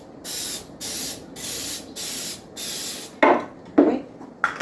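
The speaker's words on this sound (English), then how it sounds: "I'm going to spray a little nonstick spray in each one." Five quick bursts of nonstick cooking spray hissing in a steady rhythm into a muffin pan, close up, followed by a few sharper clinks of metal.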